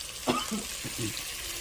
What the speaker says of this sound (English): the onions are sauteing themselves a little bit while the other side of the roast is browning